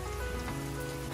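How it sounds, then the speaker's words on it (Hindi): Heavy rain pours down in a dense, steady hiss of drops hitting surfaces, constant and fairly faint, with no one speaking. "बहुत ही ज्यादा बारिश हो रही है गाइस"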